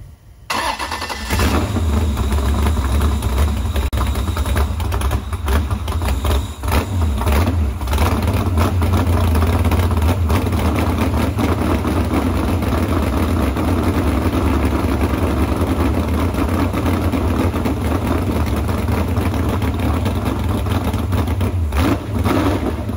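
A rebuilt engine on a dyno with low oil pressure cranks, catches and fires in the first second or so, then runs at a loud, steady idle with slight fluctuations for the rest of the span.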